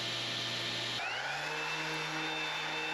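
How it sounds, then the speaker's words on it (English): A power sander works the edge grain of wooden pantry shelf pieces, a steady close whine that shifts pitch partway through and then holds a smoother tone. "I'm just going to sand the edge grain on these"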